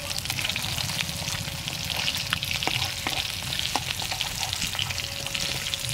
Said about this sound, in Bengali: ও মজমজে মাছ ভাজা